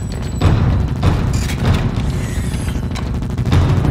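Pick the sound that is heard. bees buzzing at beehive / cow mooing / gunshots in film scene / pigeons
gunshots in film scene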